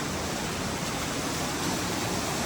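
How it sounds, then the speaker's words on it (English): A small waterfall at Kanarra Falls slot canyon in Utah, a steady dense roar of falling water that stays constant and fairly loud throughout, with no voices. "It is the nice little waterfall, as long as with the railing there."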